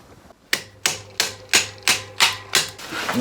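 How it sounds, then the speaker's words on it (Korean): A hammer taps a part of a CYC X1 Pro Gen2 eBike motor kit into place: seven sharp, evenly spaced knocks, close and clear, each ringing briefly, with no talking. "망치로 톡톡 두들겨서 마무리를 줘야죠"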